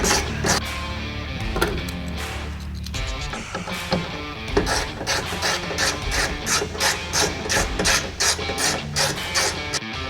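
Hand ratchet driving factory bolts through a rack bracket on a 2016-2021 Toyota Tacoma, a steady run of close, loud clicking bursts repeating for the whole stretch with no talk.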